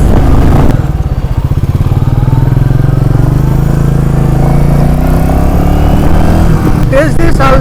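Close and loud, a Royal Enfield Meteor 350 motorcycle's single-cylinder engine and exhaust pulse steadily, rising and settling with throttle, while a rider speaks briefly over it near the end.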